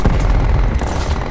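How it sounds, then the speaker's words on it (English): Loud, dense burst of air strafe-run gunfire and explosive booms in a military shooter video game, a rapid rumbling barrage filling the whole short stretch with no speech. "get a strafe run on my grid."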